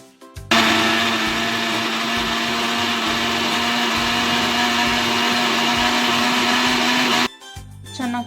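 Loud, steady whir of a mixer grinder blending poppy seeds, cardamom and milk into a paste, starting abruptly and running continuously for several seconds before cutting off, with brief clatter before and after.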